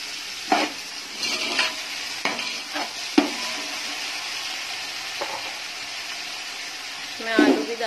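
Carrots and tomatoes frying in oil with cashews in a pan for veg pulao, a steady sizzle broken by scraping stirs and a few clattering knocks of the spoon against the pan.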